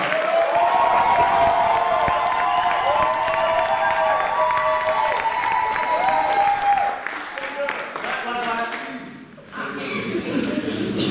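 A church congregation applauds and cheers steadily and loudly, with sustained voices and tones ringing over the clapping before it briefly thins out near the end.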